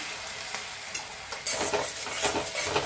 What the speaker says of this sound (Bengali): এবারে এর মধ্যে আমি একটুখানি ধনে গুঁড়ো দেব, জল দেব, জল দিয়ে আবারও কষবো।